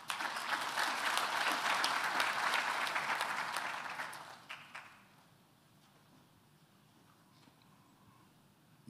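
Audience applause at a university graduation ceremony, a thick wash of clapping from a large hall that fades out after about four and a half seconds into quiet room tone.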